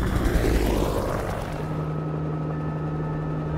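A helicopter drones loudly up close, its rotor and engine noise roaring at first and then settling into a steadier hum.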